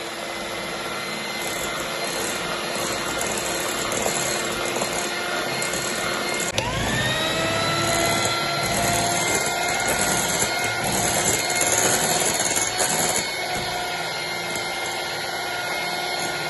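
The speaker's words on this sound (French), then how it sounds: "J'ai séparé le jaune des blancs, j'ai rajouté le sucre et on va mélanger tout ça." An electric mixer beats egg yolks with sugar, a steady whining motor hum that holds throughout, with a clear shift in pitch partway through as the speed changes, close and continuous with no talk.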